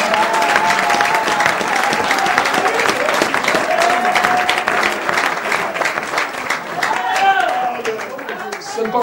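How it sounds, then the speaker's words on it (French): A church congregation applauds for the prophet Branham with sustained, dense clapping and some cheering, loud and steady throughout, while a voice speaks over it. "Acclamez pour le prophète Branham."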